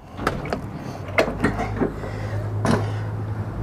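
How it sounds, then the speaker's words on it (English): A large head compartment door aboard a 2019 Boston Whaler 350 Outrage boat is worked, giving several short knocks and latch clunks spread across a few seconds over a low steady hum. "Our head area has a nice big secure door."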